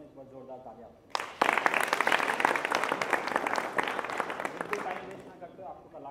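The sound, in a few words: loud round of applause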